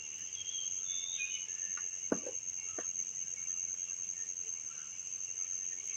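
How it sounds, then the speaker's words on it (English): A steady, high-pitched drone of cicadas fills a quiet outdoor scene on a farm, with a few faint clicks and distant chirps scattered throughout. "Maybe you can hear the cicadas."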